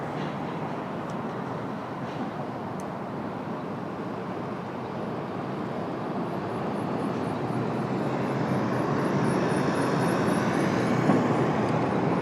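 An airliner jet at an airport, a broad, steady roar that builds gradually louder over twelve seconds with a faint high whine toward the end, no voices.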